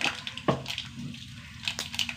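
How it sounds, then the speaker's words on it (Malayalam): Mustard seeds spluttering in hot coconut oil in a pan, a busy close crackle with a few sharp pops standing out. "കുറച്ച് കടുക് ഇട്ട് കൊടുക്കുക."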